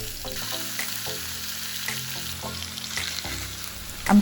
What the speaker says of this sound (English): I'm going to quickly stir fry the chicken.